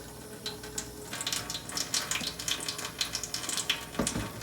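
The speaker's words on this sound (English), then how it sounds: "So you want to get the water going" Tap water running steadily into a sink for hand washing, close by, a continuous splashing hiss with small gurgling bursts.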